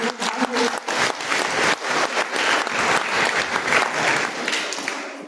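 Applause from a large audience at an HIV/AIDS colloquium in the Comoros: dense, sustained clapping that runs steadily through the whole stretch at close range.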